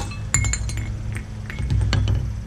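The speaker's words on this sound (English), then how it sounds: "with the smaller chisel I'm getting it putting it in the groove tapping around" Small chisel tapped around the groove of a wheel bearing cap on a Mercedes W210 E320, giving a series of sharp metallic clinks at close range, irregularly spaced over a steady low background hum.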